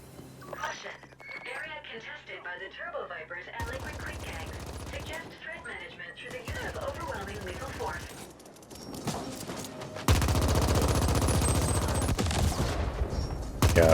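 Bursts of rapid gunfire and explosions in the video game The Ascent, dense and loud in repeated stretches, with a voice talking at times.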